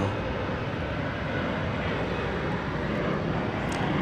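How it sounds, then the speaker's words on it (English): A fixed-wing airliner arriving from Querétaro at DFW Airport produces a loud, steady broadband engine roar that stays constant and close for the whole stretch, with no talk over it. "Here's the aircraft from Querétaro."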